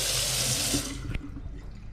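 Water poured over the seal of a Capsul case: a close, steady splashing rush for about a second that stops abruptly, leaving faint dripping.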